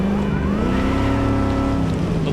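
Deep rumbling V8 engine of a hot rod car in Cyberpunk 2077, a loud continuous idle with rising and falling pitch, heard up close and alone.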